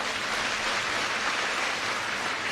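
An audience at a public government scheme event claps together as a dense, even patter of hands that holds steady for a couple of seconds at moderate loudness, with no voices above it.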